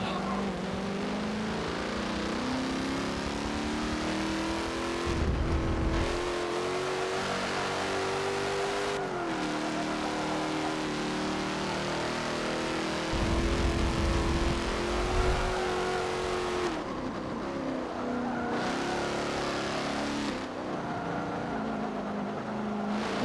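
A Ram Power Wagon engine in Forza Motorsport 7 drones steadily under acceleration, rising and dipping in pitch through gear changes with brief drops in revs, loud and continuous.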